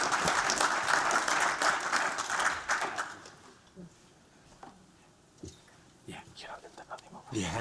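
An audience at a pitch competition finals workshop applauds a presenting team: a dense burst of many hands clapping for about three seconds, then dropping away to scattered claps and murmuring voices, with a few more claps near the end.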